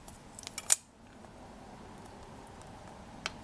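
Polymer clay being cut with a blade, a single sharp close snip amid faint handling taps and a quiet later click.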